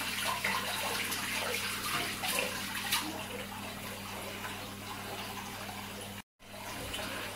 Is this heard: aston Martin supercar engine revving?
no